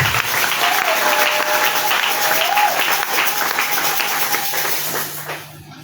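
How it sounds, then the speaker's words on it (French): Church congregation applauding and acclaiming the Lord Jesus during a service: dense, sustained clapping and crowd noise with a thin held tone running through it, steady for about five seconds before tapering off at the end. "Acclamez le Seigneur Jésus."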